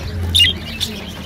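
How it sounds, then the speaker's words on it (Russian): Cockatiel at a bird market giving two short, sharp chirping calls, close and fairly loud, over a low background hum. "А здесь перед вами корева-нимфа."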